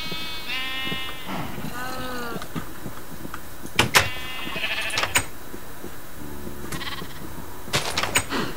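Sheep bleat several times in Minecraft Java Edition inside a sheep pen. The wavering calls are mixed with sharp game clicks and other in-game sounds.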